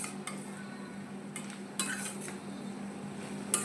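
A spoon stirs egg capsicum curry in a pan, with soft scraping and a few light clinks against the metal over a faint sizzle. There is no talking.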